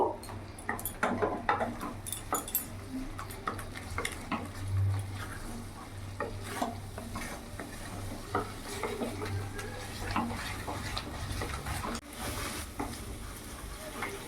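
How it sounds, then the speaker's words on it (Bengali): Prawn malai curry masala with cashew paste sautés in oil over a medium gas flame, giving a soft, continuous sizzle with repeated scraping and stirring strokes of a spatula against the pan. "কষিয়ে নিয়েছি আর সাইড থেকে তেলও ছেড়ে দিয়েছে"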